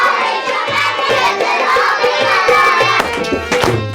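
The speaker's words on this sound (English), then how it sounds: "Dr. Yaqubi also begins to clap along" Hands clap along to children singing traditional songs and playing instruments, a rhythmic beat under loud, bright group singing.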